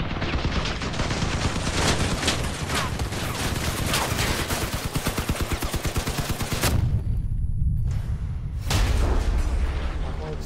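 Cannon fire and combat noise from the vehicle battle game Crossout, with dense rapid crackling bursts and heavy booms filling the scene, a sharp loud blast near the end, sustained and loud throughout.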